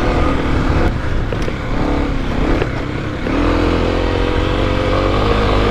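A dirt bike engine roars at full throttle on an off-road dual-sport trail ride, loud and close, dipping briefly then rising again into a sustained strained drone.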